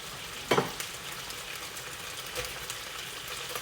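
Chicken frying in a pan with onion and garlic gives a soft, steady sizzle, with a sharp scrape or clatter of stirring early on and a lighter knock later.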